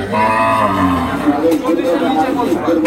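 A Nepali Gir cross cow moos loudly and up close at the Sonaichandi cattle market in Chapainawabganj, with a long drawn-out call and steady market noise behind it.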